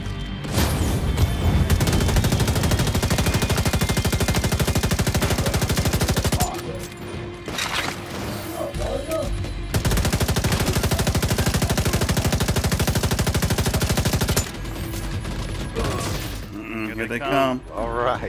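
Sustained automatic gunfire in The Division 2 co-op stronghold mission, two long loud bursts of rapid shots separated by brief pauses, with players talking over the action.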